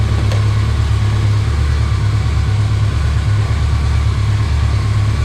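An old motorcycle engine idling after a cold start, a steady low rumbling drone running loud and close with an even pulsing beat throughout and no voices.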